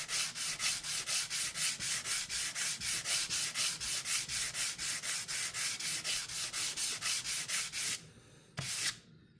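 Rhythmic hand sanding of titanium knife scales toward a satin finish, steady back-and-forth strokes close and loud for about eight seconds, then a pause and one last short rub.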